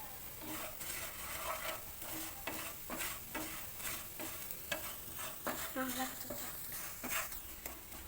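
Sago pearls (sabudana) sizzle and frying in a pan for sabbakki payasa, with a steady hiss and repeated scraping stirring strokes throughout, fairly close.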